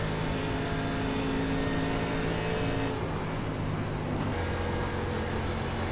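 Race car engines from an iRacing ARCA stock car race at Pocono drone steadily and loudly throughout, a sustained multi-car roar with shifting pitch and no talk over it.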